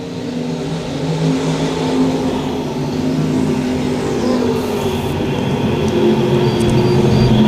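Race cars at Lakeside Speedway give off a loud, continuous engine roar during a USRA Nationals heat race. The noise swells steadily as the cars run side by side, with no talk over it.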